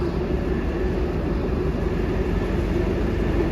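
A local train at Colombo Fort railway station, a steady loud low rumble and roar of rolling cars with no distinct clacks.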